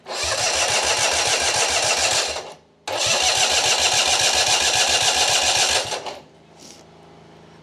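A Citroën 2CV engine, started after more than 30 years standing, with no exhaust fitted, cranks and catches into a loud, rapid chugging run, cuts out briefly, then roars again for about three seconds before dropping away.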